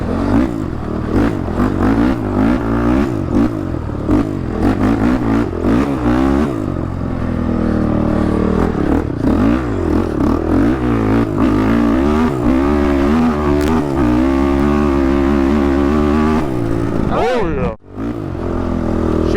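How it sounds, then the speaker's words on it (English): A 2014 Honda 450 dirt bike engine screams loud and close, bouncing repeatedly off its rev limiter in a rough, stuttering blare that holds for most of the run, with a brief dip near the end. "Bouncing off the rev limiter."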